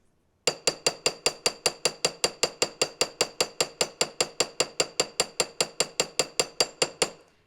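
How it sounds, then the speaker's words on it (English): A planishing hammer with a large rounded face strikes metal to texture it, about thirty evenly spaced bright ringing blows at a steady quick rhythm, close and loud, with no talking. "if I use a planishing hammer, planishing hammer that also still has that rounded face,"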